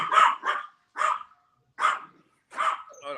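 A dog barks in four separate bursts spaced out with short silences, fairly close and moderately loud, with no talking over it.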